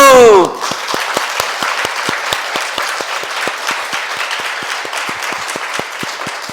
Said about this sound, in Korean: 고맙다고 박수!